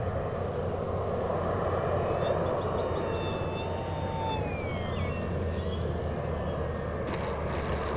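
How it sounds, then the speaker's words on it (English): An E-flite Commander mPd 1.4m model airplane's electric motor whines steadily overhead in flight, a thin droning tone that rises and falls as the plane passes at a distance, over constant outdoor wind noise at a dirt-and-grass flying field. "an airplane can take off and land from grass, even if it's this barely covered dirt we have at this field"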